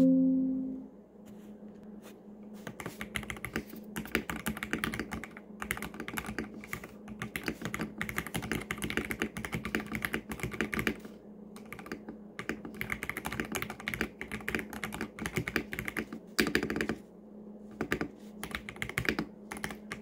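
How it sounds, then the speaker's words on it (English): Rapid, steady typing on a Dareu EK75 budget gaming mechanical keyboard, close and clear, with dense clacking keystrokes that run continuously for about twenty seconds and no talking. "let's do a bit of a typing test."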